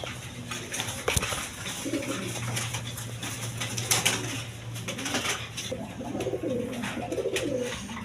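Pigeons, including a pair of shirting pigeons kept for sale, coo in soft rolling bursts under a steady low hum and scattered rustling, with no talk.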